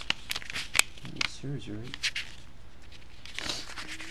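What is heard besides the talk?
pages of a paper street map book being turned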